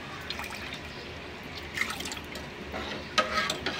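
Water being poured into a spiced yogurt and gram-flour kadhi batter, a soft trickling and dripping that rises in short splashy bursts near the end.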